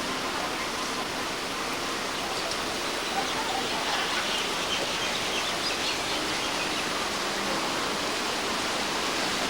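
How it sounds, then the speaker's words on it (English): A dense, steady chorus of many birds calling at a zoo in Oahu, Hawaii, a continuous bright chatter blended with broadband noise that stays loud throughout. "This is what's making all the noise. Aloha birds."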